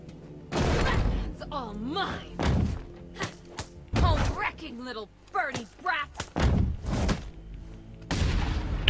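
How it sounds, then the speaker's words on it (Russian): Doors are kicked in during Batman: Arkham Knight, heard as several heavy, booming thuds spaced a second or so apart, with in-game voices and grunts sounding between the impacts. "Давай выбиваем двери нахрен."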